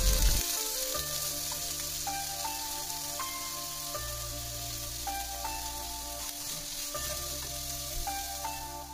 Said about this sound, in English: Take a pan and let's add some oil. Add one chopped onions